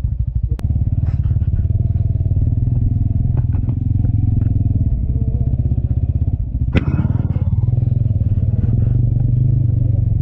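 A motorcycle rides down a rough, steep dirt track near a sheep farm in Chitlang, its engine droning steadily and loud throughout, with clattering and thumps from the bumpy ground and a sharp knock near the middle.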